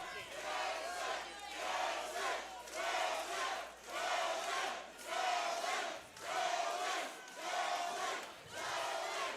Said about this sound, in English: Rival chants from the crowd again.